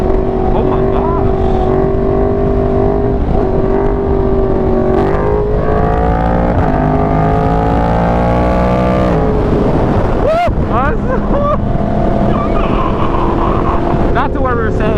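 A motorcycle engine revs hard on a dirt trail during a wheelie attempt, its loud, close drone climbing and dropping in pitch, with voices heard over it.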